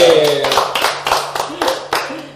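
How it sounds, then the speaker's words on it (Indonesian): A talk show audience claps in quick, uneven bursts that gradually fade, with a voice speaking briefly at the start. "Tepuk tangan lagi."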